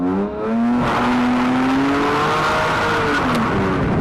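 A Metro 6R4 replica rally car drifts on the throttle, its engine revving loudly and rising and falling in pitch close by, with tyre noise under the engine's strained note.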